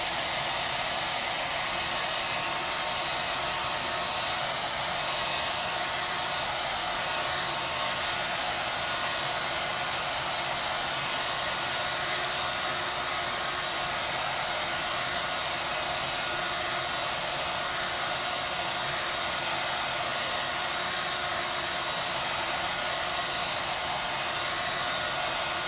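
A hair dryer on the cool setting blows over chalk paint on an enamel sign, giving a loud, steady, unbroken whoosh close by that lasts the whole stretch with no talking.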